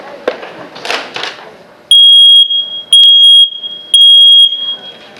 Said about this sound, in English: let's say that you hear this smoke alarm go off.